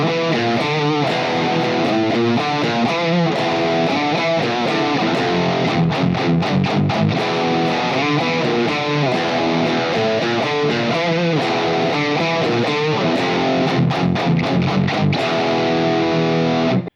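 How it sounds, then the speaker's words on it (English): Heavily distorted electric guitar plays a metal riff, alternating tight, chugging palm-muted notes with ringing open strings in a driving, dense rhythm, loud and alone throughout. "I was making sure at the beginning to get a heavy palm mute, then play the open strings without any unwanted string noise"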